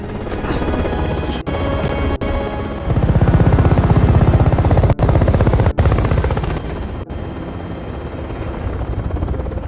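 Helicopter rotors thump in a steady, rapid rhythm, loud and close, with brief sharp breaks and a rising roar in the middle.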